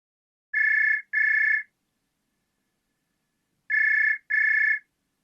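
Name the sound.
telephone ringing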